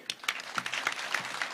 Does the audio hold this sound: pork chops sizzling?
no